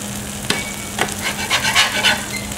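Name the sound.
burger bun toasting and sizzling on a griddle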